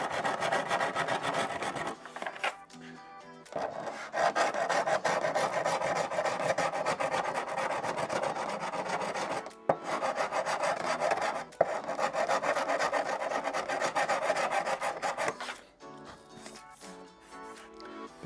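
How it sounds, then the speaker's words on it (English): A hand file rasps back and forth over hardened polyester body filler on a car part, long steady scraping strokes repeated in a rhythm, close and loud, with brief pauses between passes. "Being able to file this right back like I have there and leaving the powder."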